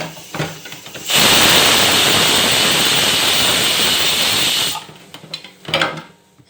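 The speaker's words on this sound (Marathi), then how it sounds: "आता इथं कुकरच्या 2 शिट्ट्या झाल्यात" A kitchen pressure cooker gives off a loud, sustained rushing hiss of escaping steam for several seconds while cooking green-masala pea rice, framed by quieter clatter before and after.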